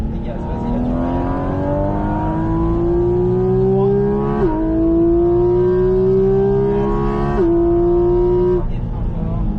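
A race car accelerates hard on the Bresse circuit, its engine note climbing steadily in pitch through two quick gear changes that each drop the revs before it rises again, loud and close throughout.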